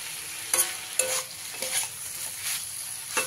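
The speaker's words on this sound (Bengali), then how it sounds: "এবারে একবার খুব ভালো করে মিশিয়ে দিতে হবে।" Steamed snake gourd (chichinga) is stirred in a pan under a soft steady sizzle, with about half a dozen distinct scraping strokes of the utensil, close and moderately loud.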